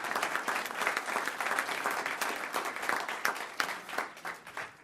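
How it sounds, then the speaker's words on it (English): Applause from attendees at a regular board meeting, honoring library staff for their hard work: steady, dense clapping from a roomful of people, moderately loud and continuous for about five seconds, with no talk over it. "You could applaud them."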